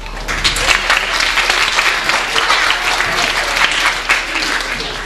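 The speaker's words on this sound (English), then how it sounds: "Give him a round of applause." An audience at a 1994 stage show claps loudly and continuously in a dense, even round of applause that fills the whole stretch without a break.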